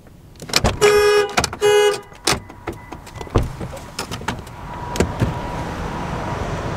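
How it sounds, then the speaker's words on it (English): A truck's car alarm goes off with two loud, sustained horn blasts in a row, followed by scattered clicks and thumps inside the vehicle. "I set the alarm off, so I guess I'm stuck in the truck"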